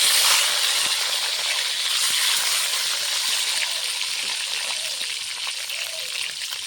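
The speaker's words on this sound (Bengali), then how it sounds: "আলু ভাজা তেলে আমি ডিমটা এখন ভেজে নেব।" An egg fries in oil left over from frying potatoes, giving a continuous close hiss and crackle that stays steady and loud throughout with no voices.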